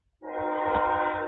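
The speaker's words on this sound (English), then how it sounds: "There's a train. The train's loud tonight because we got the windows open" A train passes outside an open window on a warm night, its horn sounding suddenly as a loud, sustained, steady blast over a low rumble of rolling wheels.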